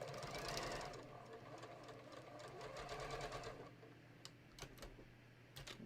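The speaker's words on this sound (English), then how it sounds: "I'm just going to stitch right along each edge" A sewing machine runs steadily, stitching along the edges of a raglan sleeve seam, close up with a fast mechanical patter, then slows into a few separate clicks near the end.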